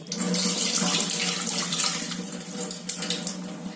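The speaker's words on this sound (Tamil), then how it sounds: "ரெண்டு தடவை நல்லா இந்த மாதிரி பிசைஞ்சு கழுவிடுங்க" Steady running water pours and splashes close by while broken wheat is swished and rubbed in it, with no voices.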